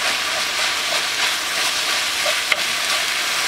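Ground beef, one and a half pounds of lean 93.7 meat, browning in a frying pan after garlic was sauteed, gives a steady close sizzle and crackle with a brief scrape or clink of a utensil partway through.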